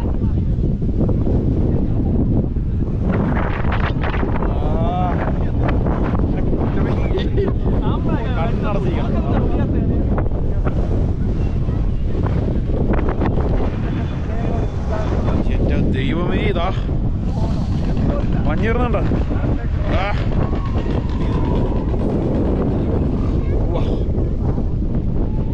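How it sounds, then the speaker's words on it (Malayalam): Strong wind buffets the microphone on the Ponmudi hilltop as mist blows in, a loud, continuous roaring rumble with gusts, and people talk over it throughout. "ഓ അടാ, ഈ കാറ്റടിക്കണ മഞ്ഞ്"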